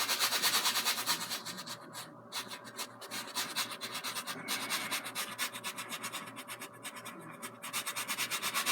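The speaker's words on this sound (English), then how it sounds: "I'm scrubbing it in right along that line." Brush scrubbing liquid white oil paint on canvas with continuous rapid, rhythmic back-and-forth strokes, close and steady, with no talking.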